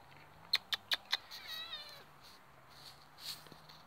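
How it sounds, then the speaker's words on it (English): A small cat meows at a wild camp, four short close calls in quick succession followed by a longer drawn-out cry, then quieter rustling with no talk. "we've got a little cat coming to camp"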